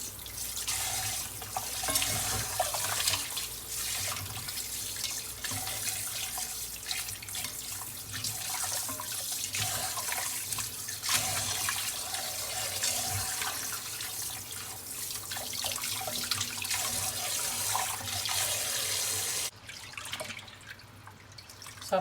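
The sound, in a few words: cold tap water running onto chicken in bowl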